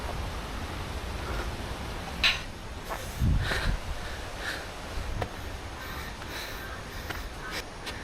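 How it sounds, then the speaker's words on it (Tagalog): Several crows caw in scattered bursts at a moderate distance over a soft, noisy outdoor background. "Daming uwak, oh."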